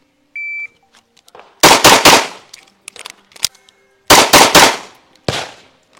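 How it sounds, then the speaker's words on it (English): Pistol shots ring out in two quick groups of three, loud and close, separated by a pause for a reload with faint handling clicks, opened by a short electronic shot-timer beep. "fire 3 rounds into the A zone"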